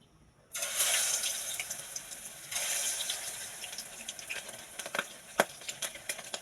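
Chicken pieces frying in hot oil for crispy Filipino-style fried chicken, a steady close sizzle with scattered sharp pops and crackles growing busier toward the end.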